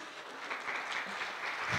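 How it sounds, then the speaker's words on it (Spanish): An audience applauding a teacher before a lecture begins, a brief soft burst of many hands clapping that swells slightly toward the end. "Un aplauso nuevamente para la maestra."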